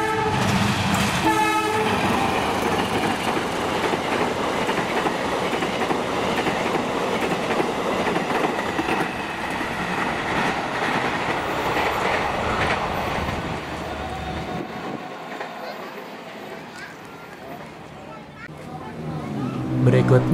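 The Serayu passenger train passes Kosambi station loudly and close by, with a steady rumble and clickety-clack of railcars over the tracks and a brief horn blast, then fades toward a quieter end.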